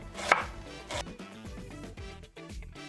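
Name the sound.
knife slicing onions into thin slices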